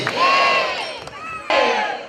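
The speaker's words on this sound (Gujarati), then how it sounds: "તાળીના ગણગણ સાથે વધાવો. બોલો રામચંદ્ર ભગવાન કી." A crowd at a Ramkatha religious gathering shouts and cheers together in a loud sustained roar, briefly dipping in the middle before surging again.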